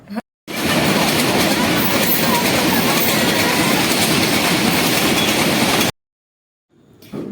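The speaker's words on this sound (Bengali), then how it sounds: "ভাগ্যক্রমে সে সময় একটা বাংলাদেশের ট্রেন যাচ্ছিল" A Bangladeshi train rolls past near the barbed-wire fence of the India–Bangladesh border, a loud, sustained rumble with rhythmic wheel clatter that ends abruptly, followed by silence and then faint sound at the very end.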